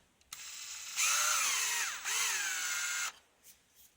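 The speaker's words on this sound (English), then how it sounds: "So I gotta do a little bit more. A little bit more drilling." A power drill bores into a stuck screw in two close, loud bursts, its motor pitch sagging under load in each, with a few faint clicks before and after.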